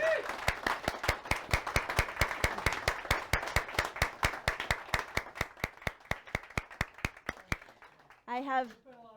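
A small audience at a festival claps for a performer in a steady, fairly even rhythm of distinct claps, fading out near the end before a voice begins speaking.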